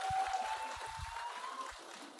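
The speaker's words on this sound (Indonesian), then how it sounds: "tepuk tangan buat Isyana di sini" Faint, thin clapping from a small group, brief and scattered against a background hum.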